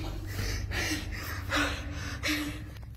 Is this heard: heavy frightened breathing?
yes